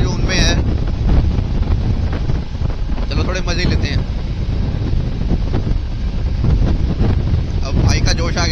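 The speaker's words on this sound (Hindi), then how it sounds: "ठंडी हवा चल रही है" Cold wind buffeting a microphone while riding a Honda SP motorcycle on a rural road, a loud constant roaring rush throughout with someone speaking briefly over it.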